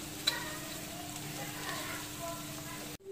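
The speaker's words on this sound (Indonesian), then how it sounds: "Tumis bawang putih, cili padi, dan bawang besar." Garlic, bird's eye chilli and onion sautéing in a pan for fried rice with beef, a steady quiet sizzle with a faint stirring scrape near the start, close and continuous.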